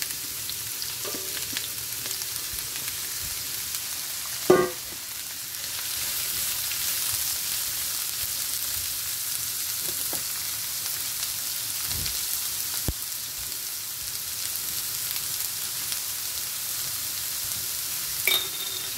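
Chopped celery and carrots sizzle in a hot frying pan, a steady close hiss of frying with a few sharp pops and stirring clicks rising briefly above the crackle.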